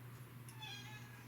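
A pet cat meows once, a short mid-pitched call heard close and fairly soft over a steady low indoor hum.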